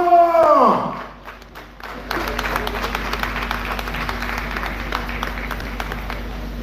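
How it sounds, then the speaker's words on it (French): At a live stage show, a held, falling sung or spoken note gives way after a short quiet gap to sustained audience applause, a dense clapping that continues steadily to the end. "sous vos applaudissements"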